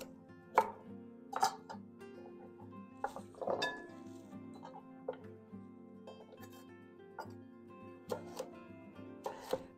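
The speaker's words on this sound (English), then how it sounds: "Next, we're gonna chop up the carrots, cut them in chunks." Knife chopping carrots into chunks on a cutting board in a home kitchen, with irregular sharp chops and occasional clinks, close and fairly quiet.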